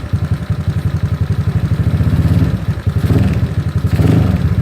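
An SSR Interceptor 150 scooter with a ZNEN ZN150T-9 engine revs loudly and close under repeated throttle pulls, its throb rising and falling in steady pulses throughout.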